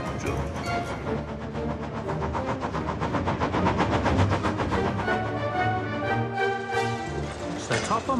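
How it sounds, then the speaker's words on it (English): A cartoon steam train from Thomas & Friends hurries backwards along a main line, its steady rhythmic chuffing running continuously under a loud, full musical backing. "He was very surprised to see a train hurrying backwards along the main line."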